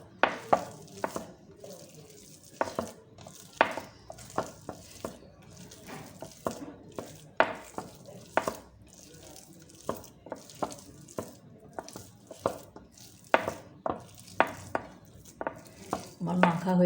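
Ginger paste being kneaded by hand into a jackfruit kofta mixture, with wet squelching, slapping and pressing sounds in an irregular rhythm, close and fairly clear, no talking.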